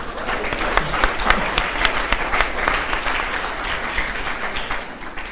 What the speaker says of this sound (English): I think that applause should be mainly for Jack's waistcoat as well